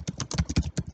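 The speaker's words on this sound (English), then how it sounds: "So we're just going to go ahead and start typing the name out." Rapid keystrokes on a computer keyboard click close up in a quick, uneven rhythm while a name is typed into a Google Sheets cell, with about a dozen taps in a second and no talk.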